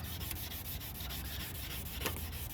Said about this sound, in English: And so he sanded it down again, even more than he had the time before.